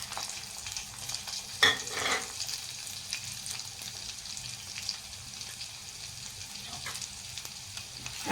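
Ginger fries in peanut oil in a kadai with a constant close sizzle. A few louder bursts and stirring scrapes come in early on, then the frying keeps up evenly with no talking.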